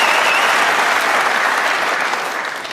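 Snooker crowd applauding a century break in a match featuring Ronnie O'Sullivan: dense, steady clapping from a large audience holding loud throughout, easing off slightly toward the end, with no talk.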